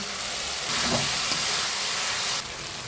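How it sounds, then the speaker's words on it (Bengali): Fried fish, potato and eggplant pieces go into a spice paste cooking in a pan, giving a steady loud hiss and sizzle that swells for a couple of seconds then eases, with no talk. "এবার ভেজে রাখা মাছ আলু বেগুনটা দিয়ে দিব"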